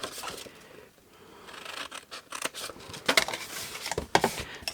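Scissors cutting through shiny paper while making a small gift box, a rustling, crinkling crunch of paper with several sharp snipping bursts toward the end, close up and alone.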